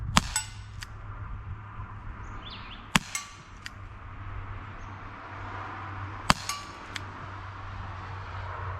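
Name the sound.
Crosman SNR .357 air rifle shot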